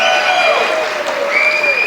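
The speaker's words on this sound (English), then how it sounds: "please give them a big round of applause" Crowd applause at a 60th birthday celebration, loud and continuous, with some cheering and tonal music or whistling sounding over the clapping throughout.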